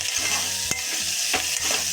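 Bitter gourd pieces with tamarind being stirred in a pan, a steady faint sizzle with a few sharp spatula scrapes and knocks against the pan, no voices.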